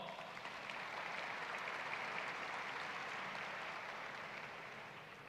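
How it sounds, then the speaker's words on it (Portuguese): An audience at the Exposibram 2024 mining expo opening ceremony in Brazil claps for the sign language interpreters, sustained applause from a large crowd that holds steady and then starts to fade. "Uma salva de palmas para eles, pessoal."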